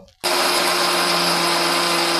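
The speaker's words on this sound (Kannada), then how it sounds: "1-2 ರೌಂಡ್ ಮಿಕ್ಸಿ ಮಾಡ್ಕೋಬೇಕು." Mixer grinder coarsely grinding soaked parboiled rice and dosa rice, a steady loud motor whine starting abruptly after a brief quiet moment and running continuously without talk.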